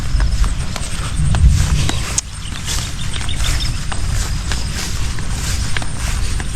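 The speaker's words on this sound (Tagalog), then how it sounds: "Ito mga kalabaw na to." Carabao (water buffalo) walking on a Philippine farm, hooves giving a steady clip-clop of close, dull footfalls over a low rumbling background with faint bird chirps.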